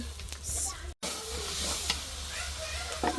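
Chunks of meat coated with turmeric and onion sizzle steadily in a pan while being stirred and braised, with a brief break in the sound near the one-second mark and a few scraping knocks from the stirring.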